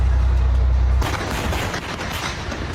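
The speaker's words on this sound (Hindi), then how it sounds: "इजरायली एयर डिफेंस सिस्टम भी एक्टिव होकर ताबड़तोड़ मिसाइल फायर करने लगे। इजराइल का आसमान धमाकों से दहल उठा" Israeli air defense fires missiles over Tel Aviv, a heavy low rumble that cuts off abruptly into a dense, crackling roar of launches and blasts echoing across the sky.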